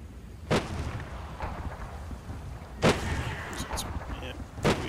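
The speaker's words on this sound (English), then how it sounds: "here we go, more mortars" Mortar shells exploding in the WWII game Combat Mission: Battle for Normandy: three sharp, booming blasts spaced a couple of seconds apart, with rumbling tails and a low background of battle noise between them.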